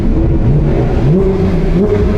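A 2022 Porsche 911 992 GT3 engine revving hard and bouncing against its soft limiter, a loud, close, continuous howl with the pitch rising and dipping in repeated sweeps, heard alone without talk.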